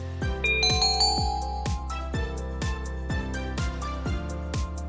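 A phone rings with a repeating electronic chime, evenly spaced bright tones with ringing decays that continue steadily at moderate volume, with no talk.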